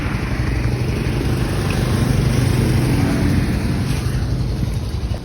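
Steady engine drone of a motorcycle carrying riders to school, continuous and fairly loud with wind rush over the whole stretch and no speech.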